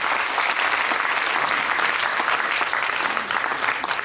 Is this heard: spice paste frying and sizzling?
no